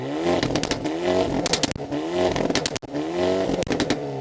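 A stock 1.6-liter car with a custom exhaust revs hard toward redline, recorded very close to the tailpipe, with repeated loud, raspy surges and brief drops between pulls.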